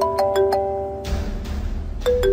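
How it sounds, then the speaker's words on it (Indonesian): A mobile phone rings close by with a short run of bright electronic tone notes, breaks off for about a second, then returns briefly, with no voices. "Tidak berapa lama kemudian, ponselku berdering."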